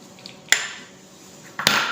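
A spoon clinks twice against a bowl while omelette batter with onion, tomato, salt, pepper and spices is mixed: two sharp, close knocks about a second apart over a faint background.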